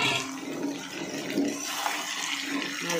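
Potatoes for aloo posto hit hot oil in a pan, setting off a steady, close, hissing sizzle that carries on for the whole few seconds.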